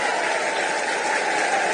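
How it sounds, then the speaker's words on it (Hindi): Crowd at a political rally in Bihar applauding loudly to welcome Nitish Kumar, a dense continuous wash of clapping throughout. "एक बार जोरदार ताली बजाकर नीतीश कुमार जी का स्वागत करने का काम कीजिए।"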